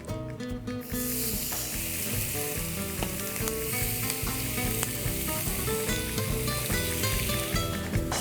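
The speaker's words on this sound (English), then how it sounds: "just quickly flash fry this calamari" Calamari flash fries in a hot pan with loud, dense, continuous sizzling and crackling close up, with no talk over it.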